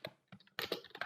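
A short burst of keystrokes on a computer keyboard, about a dozen quick, close taps clustered together, heard alone with no speech.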